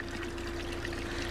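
Water runs steadily from a roadside fountain into a jug, a close, continuous trickling pour with no talk.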